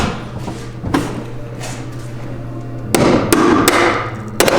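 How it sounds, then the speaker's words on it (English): A ball peen hammer strikes metal during a station wagon manual swap build, giving several sharp, loud clanks in short bursts with broadband ringing, over a steady low background hum in a garage. "Got my ball and peen. Oh, you got a peen? Peen hammer."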